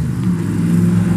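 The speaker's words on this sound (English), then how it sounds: "It's got the DG3 exhaust, which sounds good on this bike," A 2008 custom chrome chopper motorcycle with a DG3 exhaust and S&S engine idles and revs in a steady, loud, throaty rumble that stays close and continuous throughout.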